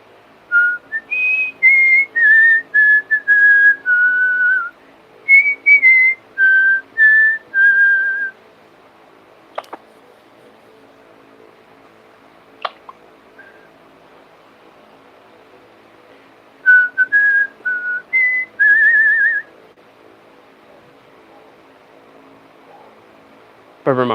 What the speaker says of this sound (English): Why can I not whistle happy birthday?